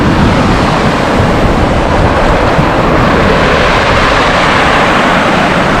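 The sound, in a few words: wind blowing at the seaside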